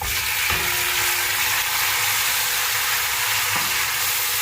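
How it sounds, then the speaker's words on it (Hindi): Onions and tomatoes fry in a pot with a continuous, even sizzle and hiss, broken by a couple of faint clinks of stirring, close and with no speech. "अभी प्याज और टमाटर को आपने पकाना है जब तक अच्छे टमाटर गल जाए"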